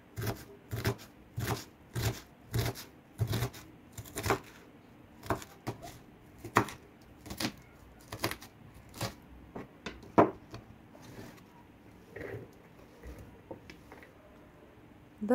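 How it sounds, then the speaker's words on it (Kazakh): Onions being chopped by hand with a knife on a cutting board, a steady run of sharp, close knife taps in quick clusters, loosening into sparser cuts toward the end, with no talking. "пиязымызды турауға бастаймыз"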